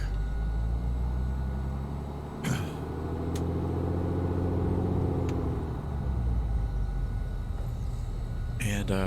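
Piston engine of a Black Square A36 Bonanza in MSFS 2024, a steady close drone with a low harmonic hum that rises and falls in pitch while taxiing on the ground, with brief clicks and a voice over it.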